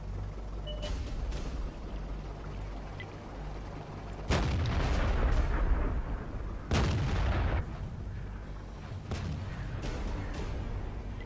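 Tank cannons fire in a TanksAsia Masters playoff match, with heavy booming shots at about 4, 7 and 9 seconds over a constant low engine rumble.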